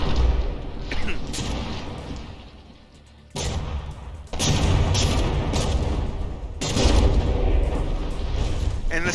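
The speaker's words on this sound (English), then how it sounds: "And the shells are still falling on the stern of the Norge." Battleship shells pound a ship's stern in From the Depths, a naval tournament brawl between the Norge and the Prince, with heavy booming impacts in bursts and a brief lull between them, under a commentator's voice.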